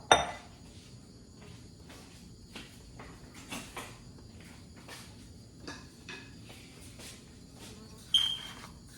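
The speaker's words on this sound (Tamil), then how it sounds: "முதல்ல நான் ரவையை வறுக்க போகிறேன்." Semolina (rava) is dry-roasted on low heat in a pan for Jaffna-style kesari, with a spoon giving intermittent light clinks and scrapes against the metal, close and fairly quiet, with no talk.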